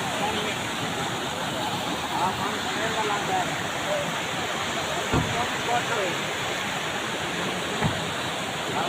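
Water rushes steadily through an opened gate on the Chashma Right Bank Canal, a dense, continuous roar at close range with a couple of faint knocks, and no voices over it.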